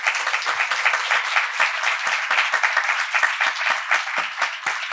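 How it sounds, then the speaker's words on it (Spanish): Audience applause for a women's tech leadership panel, a dense, steady patter of many hands clapping at moderate loudness with no voices over it, lasting throughout. "un aplauso para ellas"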